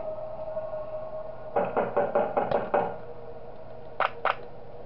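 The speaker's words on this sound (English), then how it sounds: "Wario's going to be banging on the door" Wario pounding on a door in the horror game Five Nights at Wario's, Wario's Hotel level: a burst of about six heavy knocks in quick rhythm, then two sharper knocks a moment later, over a steady low game hum.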